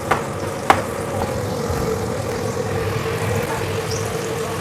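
Crispy tofu fries in a pan with a steady, loud sizzle and a couple of sharp clicks near the start, with no talk over it.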